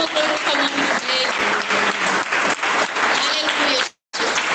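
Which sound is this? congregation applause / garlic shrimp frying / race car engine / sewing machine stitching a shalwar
congregation applause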